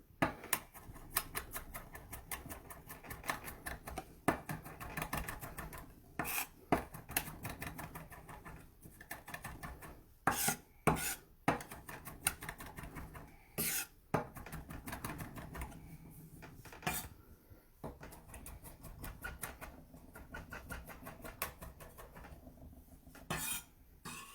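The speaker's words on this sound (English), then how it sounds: "So I've got my 2 cloves of garlic here that I have minced." Knife mincing two garlic cloves on a cutting board for pot stickers: rapid, irregular close tapping and knocking chops that come in bursts with a few sharper, louder strikes.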